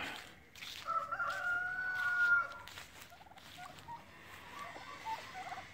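Male turkeys out on the grass give gobbling calls, with a warbling call standing out early on and shorter calls and clucks following, fairly close and with no talking.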